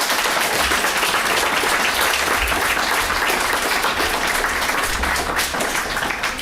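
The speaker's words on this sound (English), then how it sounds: "that itself deserves a round of applause" Audience applause fills a school board meeting room, a dense, steady wash of many hands clapping that holds at full strength without pause for several seconds.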